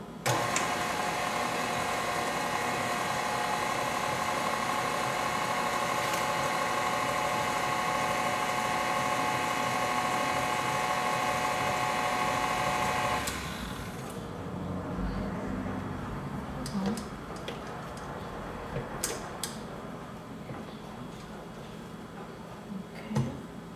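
An electric mixer runs on low, whisking egg whites into tres leches cake batter. A steady whirring drone with a whine on top holds for about thirteen seconds, then stops, leaving light kitchen clatter.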